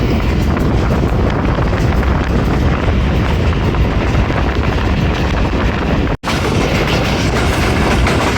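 Hazara Express passing straight through a station without stopping, a loud, steady roar of wheels and rushing wind close by, continuous throughout with one brief dropout near the end.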